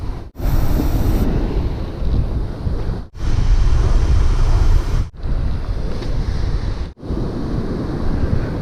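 Loud roaring surf and wind buffeting the microphone in long sustained washes on a beach, broken by a few abrupt dropouts.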